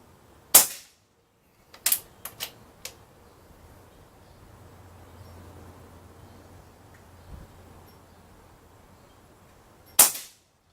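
A Benjamin Maximus .22 air rifle fires pellets in a few sharp, separate cracks spread over several seconds, with quiet gaps and faint mechanical clicks between them, ending with one final loud shot.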